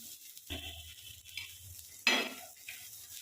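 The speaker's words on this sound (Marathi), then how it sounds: "तव्यावर तेल टाकून कांदा परतायला ठेवलाय" Onion sautéing in oil on a tava gives a soft sizzle punctuated by scraping stirs and metal clinks of a spatula against the pan, one louder scrape standing out midway.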